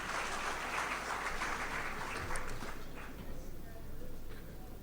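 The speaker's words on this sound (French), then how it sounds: "Ça s'applaudit très fort, mesdames et messieurs." An audience applauds a minister at a formal address in a broad, fairly faint patter that swells and eases, mixed with scattered talk in the room.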